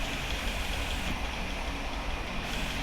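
A car engine runs in the horror video game Granny, a steady loud rumbling drone that holds evenly throughout with no breaks and no voices.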